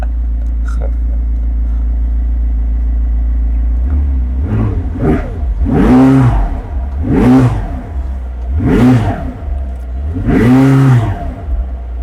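A McLaren 600LT track-oriented car idles with a steady low rumble, then its engine revs up sharply five times in a regular rhythm, each rev loud and close, rising and falling.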